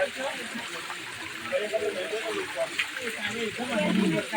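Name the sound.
roadside waterfalls flowing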